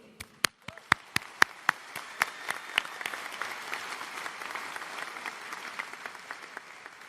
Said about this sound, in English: Join me in giving ourselves one more round of applause because we made it.